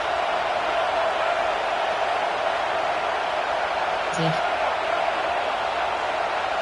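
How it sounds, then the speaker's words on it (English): Steady roar of a large stadium crowd at an Ohio State Buckeyes football game in a Madden/NCA A football video game, a continuous broad wash of cheering throughout with a brief whistle-like tone near the end. "The Buckeye crowd alive on 3rd down."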